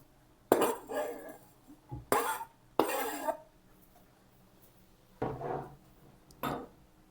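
Prepared ingredients for a simple lunch dish tipped into a mixing pan, giving several separate clinks and clattering scrapes of utensils and dishware, close up, in short bursts with quiet gaps between them.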